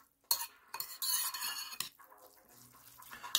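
Noodles are stirred in a pot with a utensil, giving close scraping and clinking bursts in an uneven rhythm. Quieter gaps fall between the strokes, with no talking.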